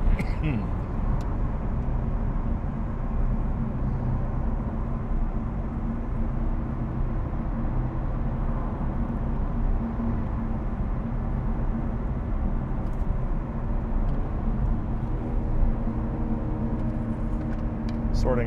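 A Lotus Evora GT engine hums at low RPM on a mountain road, a constant low drone with road rumble from inside the cabin.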